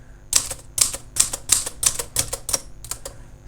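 A Royal 202 manual typewriter being typed on, its keys striking in a quick, fairly even run of about eight sharp clacks, close and clear with no talking.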